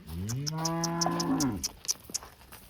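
A dairy cow on a farm lets out one loud, close, deep moo lasting over a second, followed by a few softer knocks and rustles in the barn.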